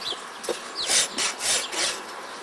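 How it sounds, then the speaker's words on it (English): A big rasp files a Clydesdale horse's hoof in several close, rough rasping strokes, each a coarse scraping burst, with no talk. "Use a big rasp for a Clydesdale foot."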